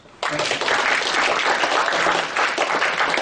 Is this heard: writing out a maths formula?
no